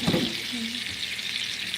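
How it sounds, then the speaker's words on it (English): Food sizzles in a hot pan in a steady, close, bright hiss that runs throughout, with a brief low clatter near the start. "Watch that sizzle."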